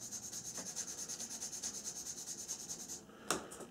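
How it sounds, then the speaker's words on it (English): Quiet, rhythmic back-and-forth rubbing of a sanding stick lightly sanding a Globemaster III model behind the hot section, about twenty even strokes, ending with a small knock. "the area behind the hot section there needs a light sanding"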